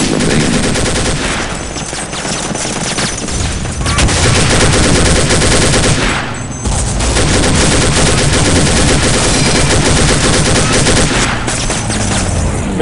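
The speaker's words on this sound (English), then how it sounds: "Machine gunner on the tank down there." Continuous loud machine gun fire in the video game Day of Defeat, dense overlapping bursts with brief lulls near two and six seconds.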